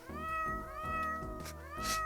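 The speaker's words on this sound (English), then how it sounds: "That's my dog right there, except he's a cat, actually." A house cat meows repeatedly at close range, several drawn-out rising cries in a row with no talking over them.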